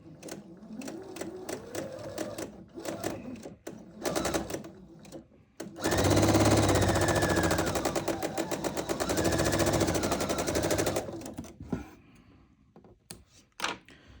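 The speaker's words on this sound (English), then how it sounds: "we're going to sew again with that little bit wider than a 1/4 inch seam" A sewing machine stitches a quilt seam a little wider than a quarter inch, running in a steady, loud burst of rapid needle strokes for several seconds, with quieter handling sounds and short stitching spurts before and after.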